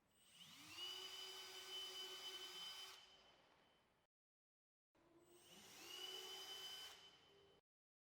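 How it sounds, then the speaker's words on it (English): A power drill bores pilot holes into a door jamb while a folding door is being installed, giving two separate sustained whining runs of a few seconds each, close and fairly loud, with a short silence between them. "Remove the channel and drill pilot holes where you marked the jamb."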